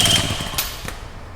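A Honda PA50 moped engine idles roughly just after starting, a close, buzzing small two-stroke putter with an uneven beat and a brief high whine at the start.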